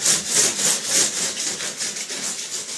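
A small hover ball toy runs close by with a raspy, scratchy whirring that pulses in quick rhythmic surges, fairly quiet and without talking.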